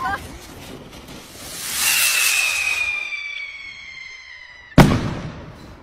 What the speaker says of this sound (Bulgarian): За заря, моля!